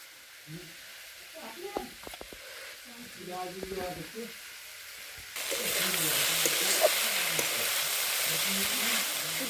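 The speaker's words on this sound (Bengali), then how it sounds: "তেল মশলা দিয়ে রান্না হচ্ছে এখন" Oil and spices sizzle and crackle loudly as food fries, the hiss jumping up partway through after quieter kitchen sounds and a voice speaking.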